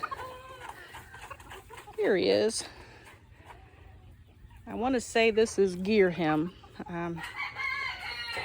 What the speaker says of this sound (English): that's a white crested Polish rooster there with the white crested Polish hens